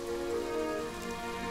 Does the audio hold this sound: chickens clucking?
no